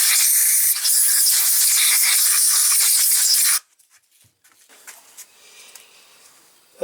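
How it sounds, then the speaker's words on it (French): A compressed-air blow gun cleans dust from a Zenith 32 carburettor on a 1955 Panhard Dyna Z1 engine, giving a loud, steady, close hiss for about three and a half seconds that stops abruptly, followed by faint handling noises. "Pour un petit coup de soufflette pour retirer"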